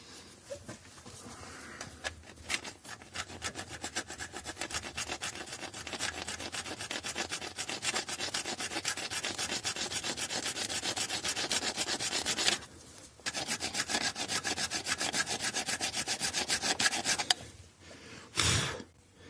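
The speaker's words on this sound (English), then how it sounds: "This is aluminium. It will eat away very quickly with this file." Hand file rasping along the aluminium edge of the lower radiator pipe on an Alfa Romeo 75, with steady rhythmic close-up scraping strokes, two short pauses, and no talk.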